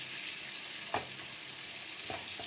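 Onions with a pinch of salt sizzle steadily in a hot pan, a constant frying hiss broken by two brief scraping stirs of a spoon.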